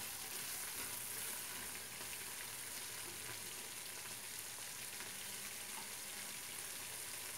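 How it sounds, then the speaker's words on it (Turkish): Peynir helvası mixture bubbles and sizzles softly in a pan, a constant faint frying hiss with no speech. "Bakın kabarcıklar çıkıyor."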